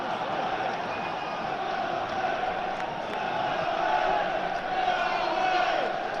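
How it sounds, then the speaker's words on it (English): A football stadium crowd at a Sunderland versus Portsmouth match swells into a loud, sustained roar of shouting and chanting. The noise rises steadily through the clip with no clear break. "Crowd spring into life"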